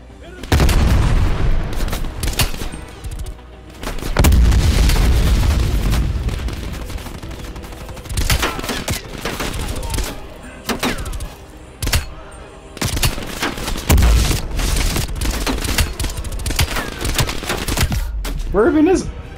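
Explosions and bursts of gunfire in the Call of Duty: Black Ops Cold War campaign, a heavy boom from a thrown frag grenade amid repeated sharp shots and rattling volleys, loud and close, with a player's voice talking between them.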